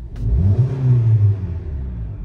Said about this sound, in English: Now let's see what happens when I rev the engine up.